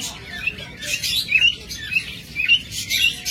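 Mutation lovebirds at a bird seller's chirp in quick, high, repeated bursts that come close together and stand out over a low background murmur.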